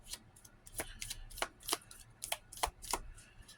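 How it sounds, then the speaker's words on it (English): Tarot cards being shuffled by hand, a series of quick riffling bursts in a steady rhythm, close and fairly quiet. "I'm going to shuffle twice."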